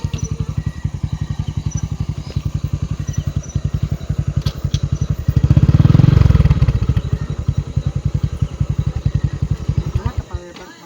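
A motorcycle engine runs with a steady, rapid pulsing putter, swelling louder around the middle as it passes close, then easing off to a nearer idle-like chug; voices are faintly present.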